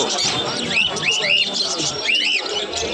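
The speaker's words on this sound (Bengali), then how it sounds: "পাখি দেখো কত রকম" Pigeons and other birds call at an outdoor pigeon market in Krishnanagar, Nadia, with repeated bright chirps rising over a steady crowded background murmur.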